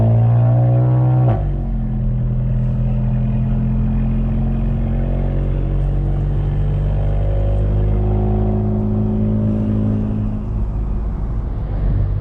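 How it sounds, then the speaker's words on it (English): A turbocharged VW Golf GTI MK7 fitted with a Mamba GTX3071R turbo accelerates, a steady droning engine note rising in pitch heard from inside the car after an initial louder surge. "that turbo noise is absurd"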